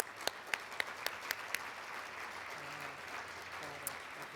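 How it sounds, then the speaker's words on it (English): Scattered audience applause at a developmental services conference, a handful of crisp, evenly spaced claps ringing out in a hall, then thinning to a lone late clap over low room murmur. "So let's give them all a big round of applause."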